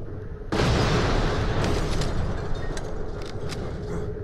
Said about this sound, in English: Stand clear of the explosion.